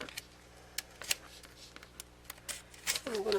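Scissors cutting a paper gift bag along a fold line, a series of close, soft snips and crisp paper rustles at an uneven pace, followed briefly by a voice.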